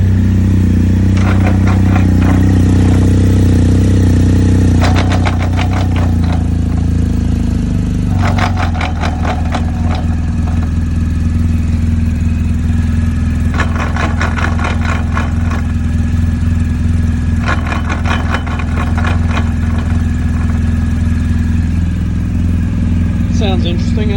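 A 2020 BMW R1250 GSA motorcycle with a failing final drive shaft idles in gear, its steady engine drone broken by repeated bursts of harsh metallic clattering and grinding, loud and close.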